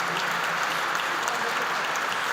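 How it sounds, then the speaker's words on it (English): Audience applause filling Auckland Town Hall at a council inauguration ceremony, a dense, steady wash of many hands clapping throughout without a break. "So a big round of applause,"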